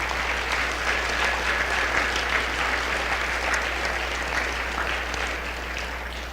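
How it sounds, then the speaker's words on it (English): An audience at a school Veterans Day program applauds after a poem reading, a full sustained round of clapping that eases off slightly toward the end, over a low steady hum. "Could we please give her another round of applause?"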